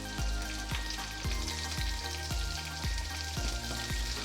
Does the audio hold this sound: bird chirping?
no